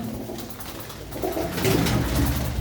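Pigeons kept by a Punjabi pigeon fancier coo in soft, low, repeated throaty rolls, close and clear, swelling slightly louder toward the end with no talking.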